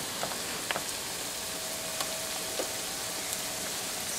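Onions softening in a stick of butter in a pan, a faint even sizzle with occasional soft pops and crackles, steady and unhurried.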